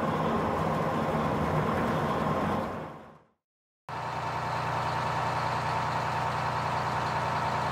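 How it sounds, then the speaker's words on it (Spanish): A vaporetto water bus engine drones steadily at a constant level. The sound fades out into a short silence, then returns just as loud. "Vaporeto."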